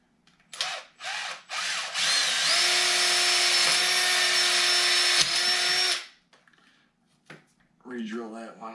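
A power drill bores into wood during a portable goal build, with a few short trigger bursts followed by one sustained high whine of about four seconds; a voice speaks briefly afterward.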